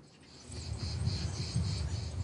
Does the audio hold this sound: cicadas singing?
yes